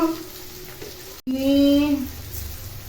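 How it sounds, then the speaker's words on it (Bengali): Potatoes frying with onions in a pan give off a soft, close sizzle beneath a steadier tonal hum, with a brief dropout partway through. "এই যে আলুটা এবার ভাজা হবে পেঁয়াজের সাথে লাল লাল করে"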